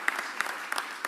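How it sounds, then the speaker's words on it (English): Sparse, faint applause at a Philadelphia public safety press event: a handful of separate claps scattered over about a second, thin and distant. "Please give him a round of applause."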